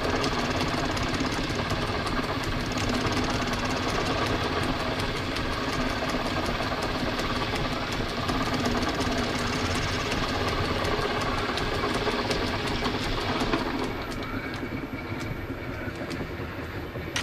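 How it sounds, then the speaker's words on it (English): A metal lathe lightly faces a part held in a three-jaw chuck while building a Stuart Progress model steam engine kit. The machine gives a loud, steady, dense drone throughout, easing slightly near the end. "I'm going to face the top just lightly so we've got a surface to work on"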